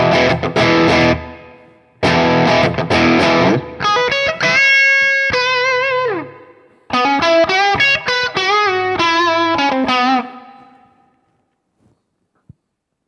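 Electric guitar played through a Line 6 Helix amp and cab model with reverb, heavily distorted chords and sustained bent notes in loud bursts separated by gaps, ending in a long quiet tail.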